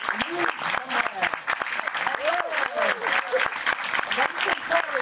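A crowd applauds the Eddie the Eagle film team, director Dexter Fletcher and Hugh Jackman included, with sustained, dense clapping and scattered voices and whoops rising over it the whole time.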